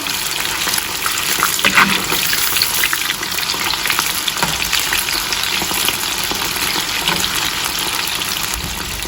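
Chicken pieces deep-fry in hot oil in batches for honey chilli chicken, making a strong, steady bubbling sizzle with occasional clinks and stirring sounds as the pieces are turned, and no voices.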